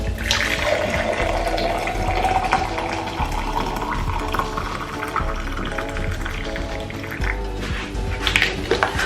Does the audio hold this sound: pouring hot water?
yes